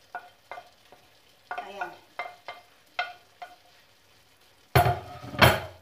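Ginger and onions fry for chicken sisig, with a spatula scraping and stirring in short rhythmic strokes, then a louder sizzling burst near the end; a voice briefly speaks.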